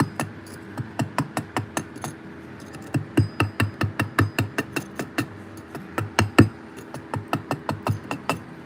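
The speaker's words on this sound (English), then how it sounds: "I'm loving this new small chisel." A small chisel struck repeatedly during carving, crisp close taps in quick, even runs of about two or three blows per second, with short pauses between bursts.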